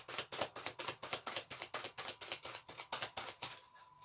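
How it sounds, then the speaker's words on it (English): Tarot cards riffled and shuffled in quick rhythmic bursts, a steady run of crisp papery flutters close by, fading near the end. "I'm going to do 2 more shuffles."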